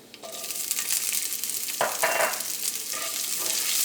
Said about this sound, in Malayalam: ഇതിലേക്ക് നമുക്ക് ചുവന്നുള്ളി ചേർക്കാം